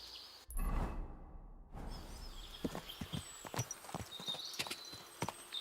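Horse hooves clip-clop in Kingdom Come: Deliverance II, an uneven rhythm after a brief whoosh, moderately close and a little quiet, with no voices.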